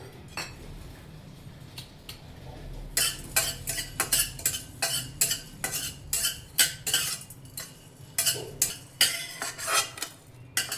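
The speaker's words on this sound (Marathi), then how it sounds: "आता आपण इथे लवंग, मिरी आणि दालचिनी भाजून घेणार आहोत." Cloves, black pepper and cinnamon dry-roasting in a pan, stirred with a metal spoon that scrapes and clinks in quick repeated strokes, close up with no talk.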